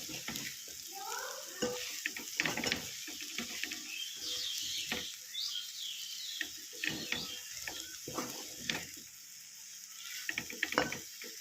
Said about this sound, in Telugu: ఈ ఆకునంతా ఎగ్ ఫ్రైలోకి వేసుకున్నాక మొత్తం అంతా గరిటతో ఒకసారి తిప్పుకోవాలి